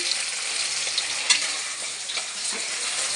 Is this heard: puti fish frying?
yes